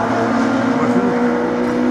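A race car engine drones steadily and loudly during a regional hill climb at Hébécrevon, holding a sustained, slightly wavering tone with no clear pass-by swell.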